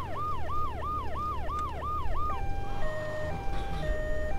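Ambulance siren in the video game Grand Theft Auto 3, a fast rising-and-falling wail that switches to a slower two-tone pattern, loud and steady over a low engine rumble, with no talk.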